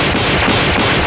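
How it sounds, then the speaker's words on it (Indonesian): A rapid burst of loud gunshots from two pistols crackles in quick succession, dense and harsh, filling the short moment without any voices. "Salah satu ninja menembaki mereka dengan 2 buah pistol secara membabi buta."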